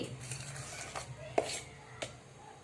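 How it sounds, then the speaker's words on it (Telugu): Spatula cutting and folding eggless chocolate cake batter in a bowl, soft scraping strokes with a few light clinks against the bowl, faint and close, under quiet room hum. "కట్ అండ్ ఫోల్డ్ మెథడ్ లోనే తిప్పాలి."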